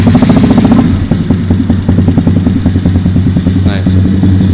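Junkyard Honda motorcycle engine fires up and runs, a loud close rapid chugging idle with mechanical clatter, steady for the whole stretch.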